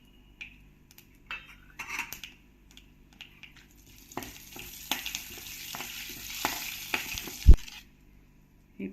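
Whole spices including cloves, cardamom, bay leaf, cinnamon and mace fry in hot oil with a light sizzle and scattered pops and crackles, then a stir and a sharp clatter of a utensil against the pan, close and alone.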